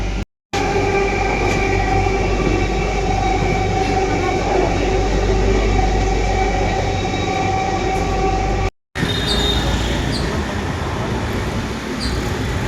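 A metro train rumbles steadily at close range, a loud continuous roar with a tonal hum, briefly cut twice, with faint squeals near the end.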